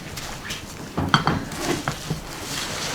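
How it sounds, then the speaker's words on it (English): A spoon stirs a mixture to coat food in a bowl at home, giving soft scraping and a few light clinks against the dish, quiet and close with no talking. "I'm going to give that a nice big stir."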